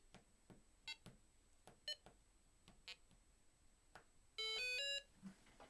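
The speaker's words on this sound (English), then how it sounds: "when I press one button, ooh, it pretends to dial." A homemade DumbPhone beeps as it pretends to dial, giving a string of short clicks and blips, then a dense burst of layered electronic tones about a second long, close and alone.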